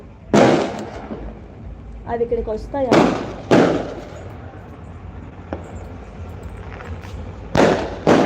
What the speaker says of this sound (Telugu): చూసారా టపాసులు